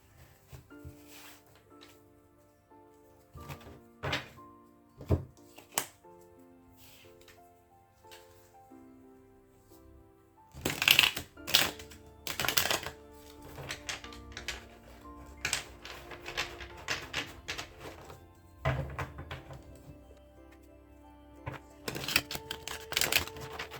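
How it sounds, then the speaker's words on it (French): Tarot cards shuffled and drawn by hand, with scattered soft card slaps and riffling bursts that grow busier and louder midway, close and without speech. "je tire les cartes"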